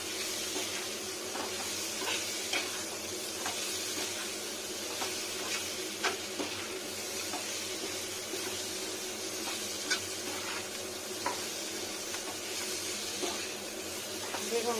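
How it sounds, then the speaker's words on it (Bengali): Cumin powder and spices stirred and fried in a pan for an egg tikka curry, a steady close hiss and sizzle with soft scraping stir strokes throughout. "এবার মেশানো হোক, ফ্রাই হবে একটু"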